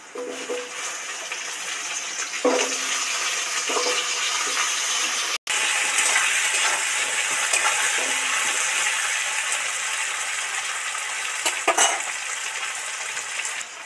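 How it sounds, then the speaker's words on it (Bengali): Taro pieces frying in a pan of hot oil give a steady, dense sizzle that runs the whole time, broken once by a brief dropout near the middle, with a few soft clinks of a utensil and no voices. "সবার আগে কচুটা এর মধ্যে দিয়ে দেবো, কারণ কচুটা হরার করে তো সবার আগে দিলে মানে এটা ভালো করে ভাজা হয়ে যাবে।"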